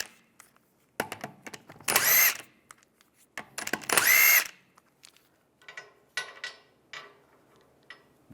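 A power tool with a 17mm socket spins car wheel bolts loose on a 1998-2010 Volkswagen Beetle, with two sustained whirring bursts amid short mechanical clicks and clatters in a quiet garage.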